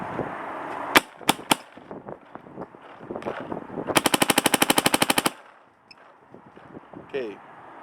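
A spring-modded Pooty clone blaster with a GT/GTi bolt fires over a chronograph: a few separate sharp shots, then a rapid burst of about a dozen evenly spaced cracks, with wind noise and a brief voice near the end.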